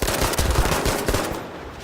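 Rapid P08 pistol shots in a video game, a dense burst of loud cracks in quick succession that tapers off into a fading tail.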